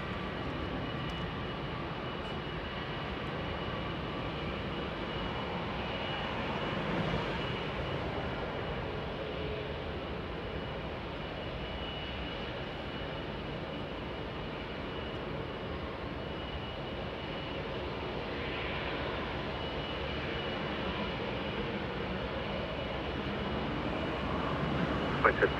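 Air Force One, a large jet, taxis at Los Angeles International Airport with a steady, broad engine rumble and whine heard from a distance throughout, under faint background noise, with no clear talk.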